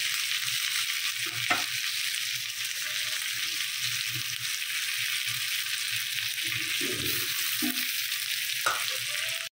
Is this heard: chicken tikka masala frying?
yes